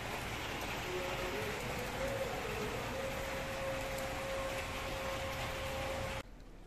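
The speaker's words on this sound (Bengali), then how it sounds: "বাইরে প্রচন্ড বৃষ্টি হচ্ছে চলো তোমাদেরকে একটু দেখাই বৃষ্টি হচ্ছে" Heavy rain pours outside in a dense, even hiss that fills the whole stretch, steady and fairly close, with a faint tonal whine running beneath it and no one speaking, before it suddenly drops quieter at the very end.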